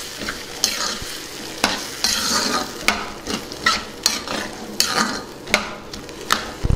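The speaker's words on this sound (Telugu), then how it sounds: "ఒకసారి మొత్తాన్ని బాగా కలుపుకుందాం" A spoon stirs tomato pieces and salt through a sizzling masala in a pan for a green peas curry, with steady scraping strokes recurring about once a second over continuous frying, close and loud, with no talk.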